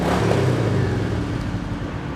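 A 2024 Royal Enfield Meteor 350 Fireball motorcycle on its stock exhaust idles and revs up and down, a loud, steady, close engine note with no talking.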